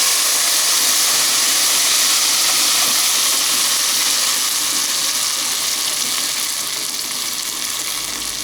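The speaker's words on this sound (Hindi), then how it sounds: "इस प्याज को हल्का सा हम गुलाबी होने तक इसको फ्राई कर दें" Onions frying in a pan for Kashmiri dal, a steady, dense sizzle with bright hissing crackle that stays loud and close throughout, easing slightly toward the end, with no talking.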